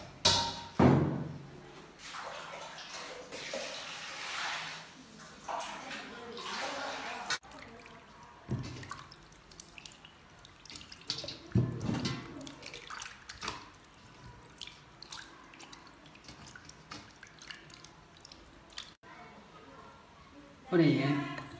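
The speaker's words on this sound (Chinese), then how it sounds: "先把这个鱼洗一下" Half of a leftover fish is rinsed under a running kitchen tap before being braised, with water splashing and dripping close by. Thuds come from handling the fish, and a person talks over it much of the time.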